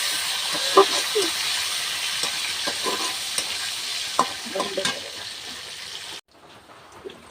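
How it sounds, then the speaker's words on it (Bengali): Chopped onion and dried red chillies fry in a pan with a loud, continuous hiss and sizzle, broken by scattered stirring scrapes and clicks, then the sizzle drops away sharply near the end. "পেঁয়াজ কুচি একটু বাঁধা ভাজা করে নিব তারপরে তোমাদের সামনে আসছি আবার এইখানে আমি শুকনা মরিচ দিয়ে দিলাম"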